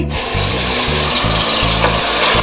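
Ground masala paste tipped into hot oil in a pressure cooker for a village-style chicken saaru gives a loud, steady sizzle with scraping, close by and with no talking.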